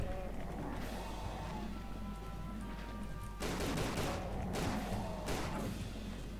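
Bursts of gunfire in the video game Tomb Raider: The Angel of Darkness, quieter crackling early then sharper, louder volleys of shots in the second half, with a low ambient hum underneath.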